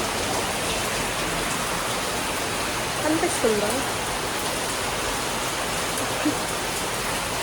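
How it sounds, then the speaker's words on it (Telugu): Steady, dense rain pours down throughout, a constant hiss, with a brief voice speaking quietly partway through. "వర్షం పడుతుంది"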